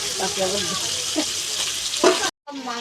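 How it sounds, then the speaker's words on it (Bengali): Fish sizzles in a frying pan in a home kitchen with a steady, close hiss and some faint voices in the background. The sound cuts out briefly near the end. "এটা আমার দিদা এরকম মাছ ভাজছে বাবুরা খাবে বলে"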